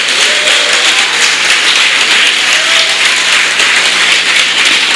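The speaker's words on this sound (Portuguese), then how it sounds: "Você pode dar glória a Deus, uma salva de palmas?" A church congregation applauds in praise during a sermon, with loud, sustained clapping from many people forming a continuous dense roar.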